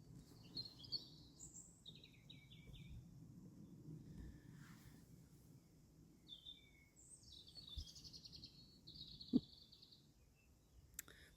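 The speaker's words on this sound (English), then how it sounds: "garden with birds singing" Birds sing in a sunny garden: scattered high chirps and short trilled phrases come from a distance over a soft, low outdoor rumble, with one sharp knock near the end.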